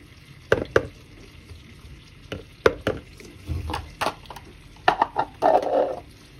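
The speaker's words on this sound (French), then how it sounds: "Je vais remuer mon chocolat pour éviter que ça crame." A spoon stirs melting chocolate in a saucepan over low heat, giving a string of close clinks and scrapes in uneven bursts with a faint sizzle between them, no voices.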